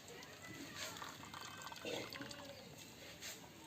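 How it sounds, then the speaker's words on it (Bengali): Shredded potato for fried potato sticks is squeezed and rinsed by hand in a bowl of water, giving a steady close sloshing and trickling with small drips and splashes, with no one talking. "এখন চিপে চিপে ধুয়ে নেব ভালো করে আলুটা"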